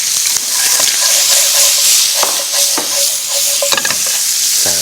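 Loud, close stir-frying in bacon fat with garlic and onion in a pan: a dense continuous sizzle with spatula scrapes and a faint ringing tone, no voices over it.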